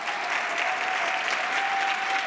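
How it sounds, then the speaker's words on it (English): Continuous applause from a conference audience at a CityLab session, even and steady throughout, with a faint tonal hum beneath it. "take a round of applause for all the hard work everybody put in to making this conference work"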